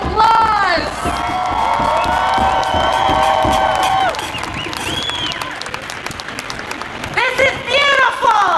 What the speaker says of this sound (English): Everybody, please give Sarah a warm round of applause